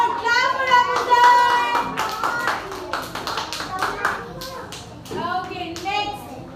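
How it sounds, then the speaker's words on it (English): Young schoolchildren in a classroom clapping in short, sharp bursts of claps, close by, mixed with a teacher and children talking over and between the claps. "Clap for Abu sir."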